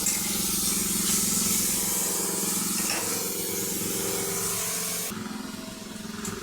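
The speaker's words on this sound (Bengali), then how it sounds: "পেঁয়াজটা ভালো করে ভাজা হবে।" Chopped onions and a few green chillies fry in hot oil in a wok, giving a continuous close sizzling hiss that holds steady, with no talk over it.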